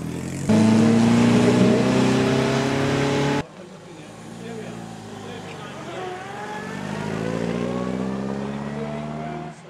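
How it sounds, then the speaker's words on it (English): Enormous vintage Hispano-Suiza motor car climbing the Kop Hill Climb course, a deep engine drone with rising and falling gear tones, loud at first then farther off, under an announcer's voice. "Coming into the vintage motor car category, we now have a delightful and enormous Hispano-Suiza."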